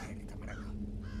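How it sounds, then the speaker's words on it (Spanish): Crows caw in the video game Thief, a few harsh calls rising over a steady low droning background, fairly faint and brief. "Hay pájaros también"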